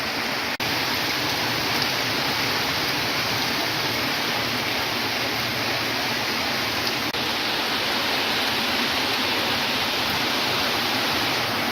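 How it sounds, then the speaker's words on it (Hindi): Heavy monsoon rain pours down in a village, a dense, constant roaring hiss with no letup, loud and close, with no voices over it. "खतरनाक बारिश हो रहा है"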